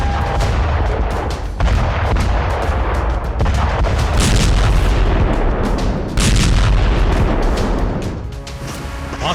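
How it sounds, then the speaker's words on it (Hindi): Russian missile and artillery fire around Bakhmut, a dense barrage of booms and cracking shots overlapping continuously for several seconds, loud and close with no speech. "यहां रूसी सेना अंधाधुंध मिसाइल दाग रही है।"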